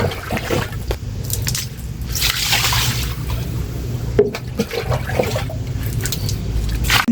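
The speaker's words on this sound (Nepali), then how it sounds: "धारा सफा गर्छु पहिला," Water splashes and gushes steadily while a dirty outdoor water tap is scrubbed clean, with a few sharper drips and knocks. Nothing else is heard over the running water.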